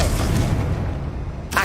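A Confringo explosion spell goes off in Hogwarts Legacy, giving a heavy, sustained booming rumble that ends in a brief sharp burst.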